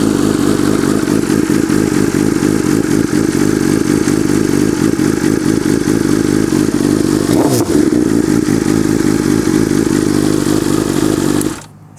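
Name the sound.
BMW S1000RR motorcycle engine started and revved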